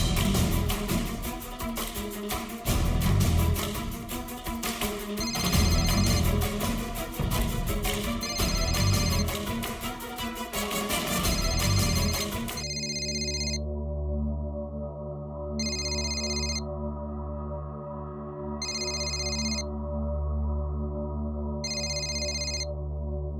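A telephone rings repeatedly while a call is placed in a Hindi TV comedy scene, first as a busy, music-like ringtone and then as a clean ringback tone pulsing in evenly spaced bursts, with no talking.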